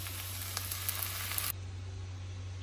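Washed rice tipped into a hot pan with curry leaves sizzles loudly, a close bright crackling hiss that drops to a softer steady fry partway through.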